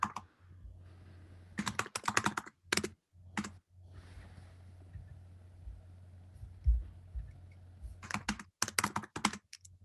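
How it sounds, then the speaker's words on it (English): Rapid bursts of computer keyboard typing come through an online call, clattering in dense clusters with short pauses between, fairly close and with no voices over it. "I hear a lot of typing."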